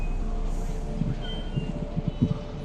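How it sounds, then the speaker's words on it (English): Train in the Spider-Man video game, a steady low rumble of rolling rail cars with rhythmic clanks from wheels over track joints, moderately loud and without talk. "Gotta catch my train."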